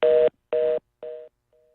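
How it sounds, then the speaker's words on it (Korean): After a dropped call on a radio news programme, a telephone line sounds a busy-type tone: three even beeps with gaps between them, then a faint fourth, loud and alone. "전화가 끊겼습니다."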